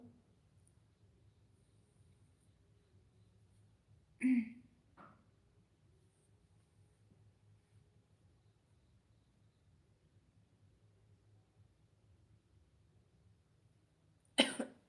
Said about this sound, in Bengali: কাশি হচ্ছে হালকা হালকা একটু